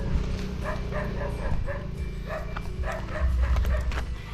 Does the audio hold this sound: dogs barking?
yes